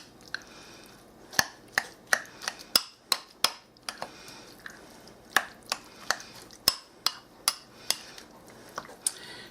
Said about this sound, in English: we're going to mix this all up